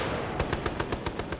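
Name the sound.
MiG jet firing 23mm and 37mm cannon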